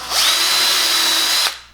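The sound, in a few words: power drill pre-drilling wood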